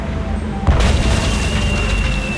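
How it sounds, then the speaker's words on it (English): A Hungarian easy-action cannon firing in the game Tales of Monkey Island: a single deep boom bursts out over steady background sound, followed by a lingering rumble. "Hey, it's one of those spiffy new Hungarian easy-action cannons I've been begging Elaine to let me buy."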